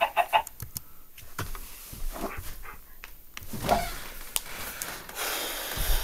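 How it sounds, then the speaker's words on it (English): Chickens cluck in the video game Minecraft, short repeated clucks and squawks close by along with other game sound effects, no talking. "Now I've got two chickens now."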